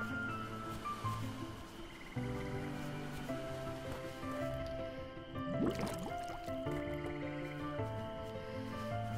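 A plant is watered with a bucket in the farming game Stranded Sails, producing a quiet, brief liquid pour and splash over soft ambient game music and gentle background tones.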